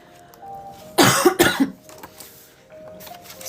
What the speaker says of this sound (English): I gotta take a sip here so I stop coughing.